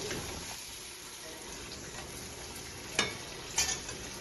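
Two kilograms of chicken hitting a hot pot and frying, a soft steady sizzle with two sharp clattering knocks near the end and no talk.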